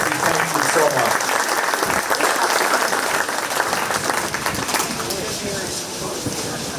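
Audience at a 4-H pie and muffin auction at the Shelby County Fair clapping in a sustained round of applause, dense and fairly loud, with a voice speaking over it.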